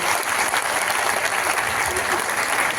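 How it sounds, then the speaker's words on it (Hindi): A crowd at a Saraswati Puja festival in a hall bursts into loud, dense applause, continuous clapping filling the whole moment without a break. "आप सबके लिए आप जोरदार तालियां बजाइए"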